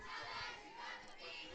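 Crowd and cheerleaders cheering at a school football game, a brief burst of massed shouting that sounds distant and slightly muffled, heard alone.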